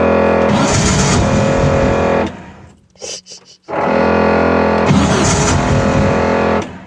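Air-cooled 2276cc VW engine on a cold start, loud steady running drone with a raspy idle, cutting off briefly around the middle with sputters before catching again and running on.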